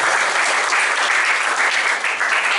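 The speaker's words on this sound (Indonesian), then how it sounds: "Tepuk tangan buat Yesus" A church congregation bursts into loud, dense applause during a Christian sermon service, many hands clapping in a continuous, full roar that stays steady throughout without any voices on top.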